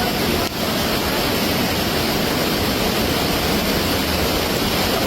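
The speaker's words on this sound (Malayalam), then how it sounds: "മഴയും വെള്ളത്തിന്റെ ശബ്ദമൊക്കെ ആയതുകൊണ്ട് നമ്മൾ വോയിസ് ഒന്നും അത് അധികം ക്ലിയർ ആയിട്ടുണ്ടാവില്ല" Heavy rain and rushing monsoon floodwater on the Iravinji river make a dense, constant roar of broadband noise without pause, loud and close.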